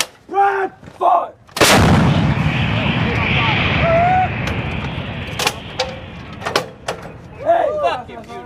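An M777 towed 155 mm howitzer fires during a live-fire drill, one huge close blast followed by a long rumbling decay, with soldiers shouting commands before and after.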